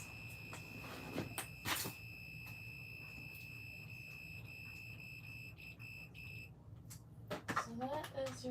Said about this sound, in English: So that is your little doorbell or your alarm.